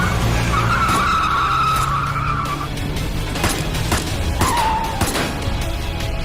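A black car's tires screech in long skids that rise and fall over a continuous engine roar, loud and close throughout with no voices.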